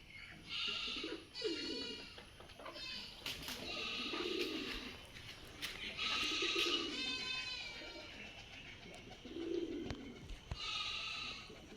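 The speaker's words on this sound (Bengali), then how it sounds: "এই যে কবুতর" Domestic pigeons kept as a hobby coo in a series of low, soft calls spaced a few seconds apart, mixed with a thinner, higher bleating cry, close by in an open outdoor setting with steady background noise.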